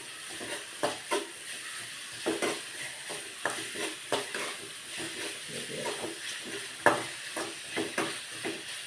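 Tomato and onion sauté in a pan for a white chickpea curry, a quiet sizzle broken by regular scrapes and knocks of stirring, each stroke a few seconds apart, close by, with no talking.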